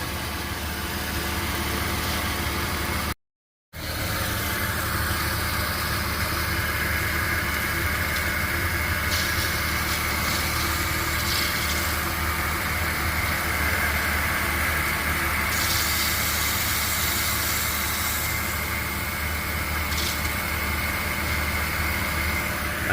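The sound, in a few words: Porsche Boxster 2.7 engine noise near serpentine belt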